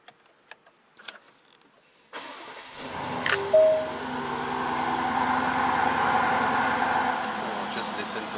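A supercar's engine cranks and fires into a loud, steady idle after a few soft clicks in the cabin, with people talking close by.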